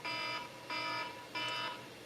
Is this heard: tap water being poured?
no